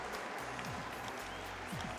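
An audience applauds at the World Dog Show 2013 group judging, a faint, continuous wash of clapping from a large hall with occasional distant voices.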